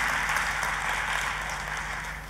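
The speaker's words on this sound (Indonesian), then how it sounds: "Kita kasih tepuk tangannya yang paling meriah buat Tuhan kita." A church congregation applauds throughout, a steady dense wash of clapping at moderate level with no talk over it.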